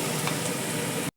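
Beans frying in a pan: a constant close sizzle that holds steady and then cuts off abruptly near the end.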